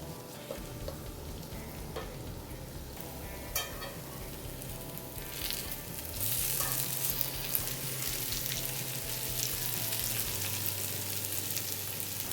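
Fish masala with onions sizzling steadily in a hot pan for Tamil-style meen varuval, a close, continuous frying hiss with occasional stirring scrapes that grows slightly louder midway.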